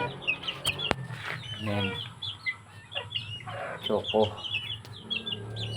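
Several backyard-bred chickens, a hen's offspring, clucking and chirping in short bursts nearby, with someone speaking briefly over the flock.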